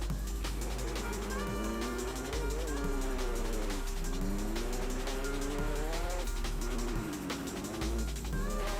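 McLaren car drifting in the Roblox game Fix it Up, with continuous engine drone and long wavering tire squeals rising and falling through the corners, loud and close with no talk.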